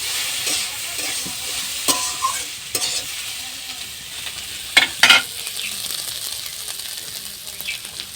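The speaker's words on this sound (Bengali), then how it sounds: "লঙ্কা বাটাটা দিয়ে আবার একটু ভালোভাবে কষিয়ে নেব, তারপর বাকি মশলাগুলো আবার দেবো।" Chili paste being stir-fried with prawns and spices in a pan, a soft continuous sizzle broken by scattered spatula scrapes and a couple of sharp clanks against the pan, no talk.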